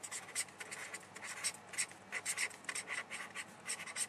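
A pen writing on paper while a math exercise on class intervals is worked out, with soft, close scratchy strokes in short irregular bursts and no other sound.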